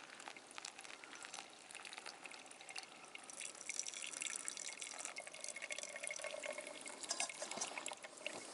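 Water dripping and trickling steadily as coffee brews through the grounds outdoors in the Swedish woods, a continuous close hiss and patter that grows slightly fuller partway through.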